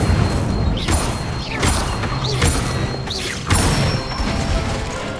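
Spells cast during a wizard duel in Hogwarts Legacy: a run of whooshing magical bursts and crackling impacts about every second, loud and close over a busy game soundscape.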